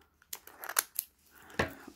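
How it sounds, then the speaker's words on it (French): Small scissors snip into the plastic packaging of a Frozen 3D puzzle, a few quiet, crisp cuts and rustles close by in a near-silent room. "j'ai pris mes petits ciseaux."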